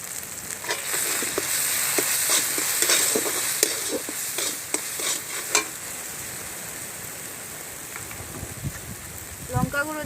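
Spices stirred as they fry in a pan for prawn malai curry, giving a steady close sizzle with repeated scraping strokes of a spoon, ending in a few louder clatters.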